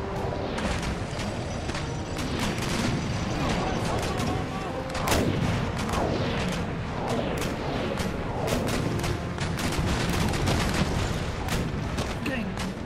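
Naval cannon broadside in the strategy game Empire: Total War booms out in repeated rolling volleys. Crashing impacts ride over a dense, continuous battle din while a voice talks throughout.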